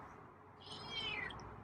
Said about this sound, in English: Oh, it's a nice meow though.